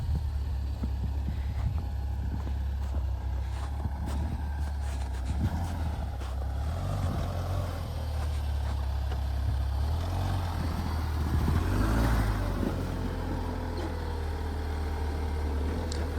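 A Mahindra Thar Roxx 4x4 with a 2200 cc engine drives over snow and black ice, a low steady engine drone with rumbling and scraping bursts as the tyres slip, fairly faint throughout.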